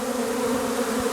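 A swarm of honey bees makes a dense, steady buzzing drone, loud and close, continuous for the whole short stretch with no voices.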